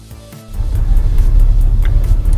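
A 2005 Ford F-150 pickup on a test drive; after a brief quieter moment the engine rumble swells and settles into a loud, steady low drone heard from inside the cab.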